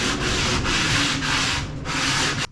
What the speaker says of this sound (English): We're going to give the laminations just the slightest sanding, just to roughen up the surface a bit